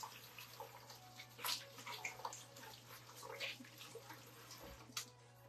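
Tap water running while someone washes onion off their hands, a faint, steady splash with soft sloshes and a few brief louder spurts over a low background hum.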